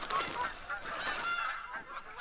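Several geese in a hunting video game honk back and forth at moderate distance, overlapping calls rising and falling over a quiet background.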